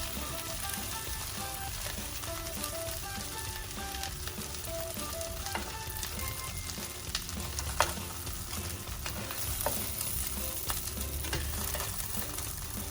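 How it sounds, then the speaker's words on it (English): Shell-on prawns lightly sautéing in a pan of oil for an Indonesian prawn curry, with a constant close sizzle and occasional stirring taps. "It's just to lightly saute them and to make sure that the"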